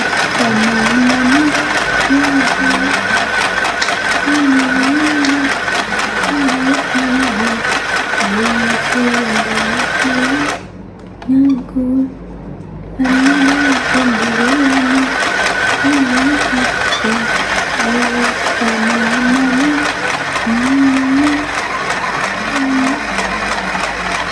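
A cheap mini sewing machine stitches steadily and loudly for the whole stretch, its fast motor whir and needle rattle pausing once for about two seconds before running on.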